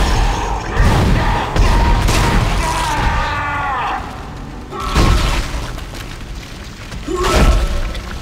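Heavy booming gunfire and impacts ring out as enemies' limbs are shot off in the horror game Dead Space, loud repeated blasts with crunching hits and metallic clanks, and a voice talks between shots.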